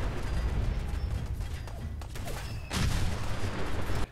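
Fat Man mini-nuke launcher firing in Fallout 4 during a fight with Raiders: a dense, steady roar of broadband noise that jumps louder for the final second and a half, with no voices.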